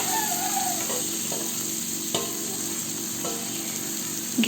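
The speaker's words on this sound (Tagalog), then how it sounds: "Gisayin lang natin ito ng 3 minuto." Vegetables with pigeon peas and shrimp sauté in a pan, a steady close sizzle and crackle running throughout with a few soft utensil clinks and scrapes, no voices.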